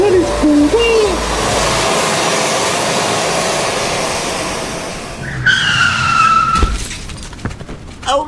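A bus skids with a long, harsh tire screech in a comedy sketch sound effect, building loudly, then ending in a crash and clatter of impact near the end.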